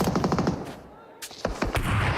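Gunfire in a PUBG Mobile esports match: rapid automatic bursts, loud and close, with a short pause before more shots, under fast commentator talk.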